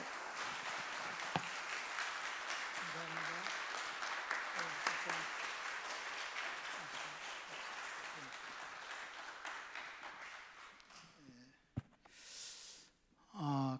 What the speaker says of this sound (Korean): 우리 김덕신 목사님 이렇게 나오실 때 여러분 이렇게 박수로 환영합니다.